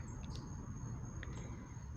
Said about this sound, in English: You can hear the little birds out there.